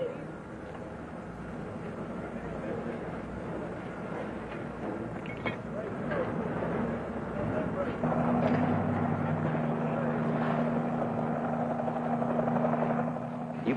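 A military helicopter flies at night over supply ships during a replenishment run, its rotor thudding and turbine whining loud and continuous, with a voice talking over it.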